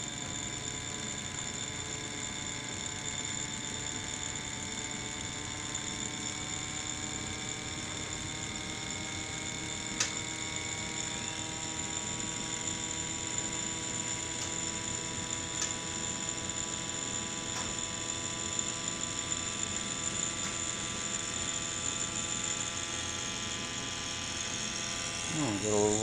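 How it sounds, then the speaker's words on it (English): A high-speed reed switch pulse motor with a socket pushed into its coil end runs steadily, a loud continuous electric whine holding through, with faint laundry noise behind and no talk. "Listen to this thing gain RPM."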